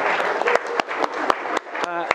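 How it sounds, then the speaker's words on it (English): Wedding guests at St Audries Park applaud the flower girls during the groom's speech: a dense patter of clapping with a few sharper individual claps, while voices talk over it throughout. "A big round of applause for the flower girls, everyone."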